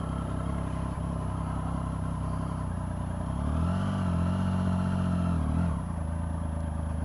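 A Triumph Speed Triple 1050 motorcycle rides a slow cone course, its engine running continuously close by and rising briefly as the throttle opens, then settling back, with wind noise throughout.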